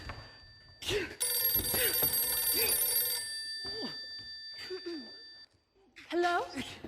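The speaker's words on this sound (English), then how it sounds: "Oh, is that the phone I hear ringing?" A telephone bell rings in a steady pattern of bright, sustained tones, with people talking over and between the rings.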